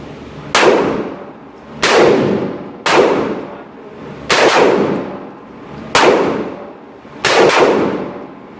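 An M16A1 rifle fired outdoors, heard as six loud, sharp reports spaced roughly a second apart, each with a ringing decay that trails off between shots.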